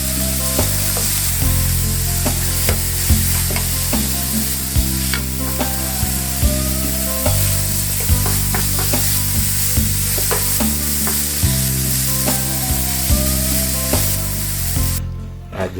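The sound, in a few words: steak and tomatoes frying in a hot pan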